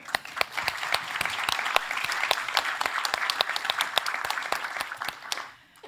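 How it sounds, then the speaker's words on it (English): An audience at a summit applauds, a dense burst of clapping that holds steady for about five seconds before fading out. "That's an applaud."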